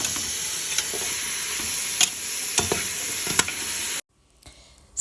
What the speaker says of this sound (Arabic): هنا غندير اللحم والعظومه غير شويه، خليه يتشحر بلا ملح بلا حتى شي حاجه